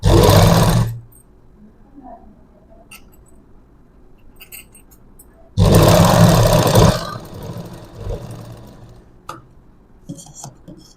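A sewing machine stitching a shape belt runs in two loud, fast whirring bursts, each about a second long, separated by quiet handling noises.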